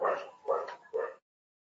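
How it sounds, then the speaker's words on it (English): A dog barks aggressively in the background, three distinct barks in a row, moderately loud, then silence. "that's some aggressive intense barking background there"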